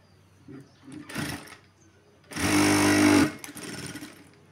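A sewing machine stitches a seam through cloth in one loud sustained burst of about a second, with quieter handling and shorter motor whirs before and after.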